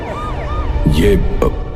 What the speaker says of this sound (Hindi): पुलिस की गाड़ी आकर रुकती है।